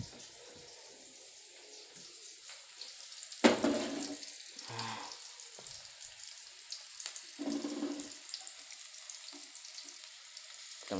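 Tap water runs into a kitchen sink while food is washed for a mixed-vegetable capcai, a steady close hiss with a few louder splashes and clatters partway through.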